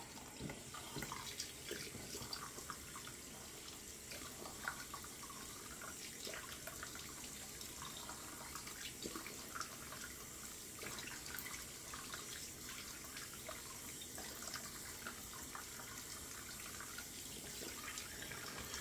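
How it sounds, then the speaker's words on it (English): Tap water runs steadily into a sink, a soft continuous splashing hiss with no voices. "Rinse with hot water."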